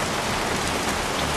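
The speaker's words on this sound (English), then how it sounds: "Jeez, won't this rain ever let up?" Steady, dense rainfall in the game Heavy Rain, a continuous broadband hiss of drops on surfaces, close and even, with no voices.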